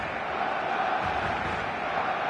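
A football stadium crowd in a video game roars and cheers in a dense, continuous wash of noise with no distinct breaks.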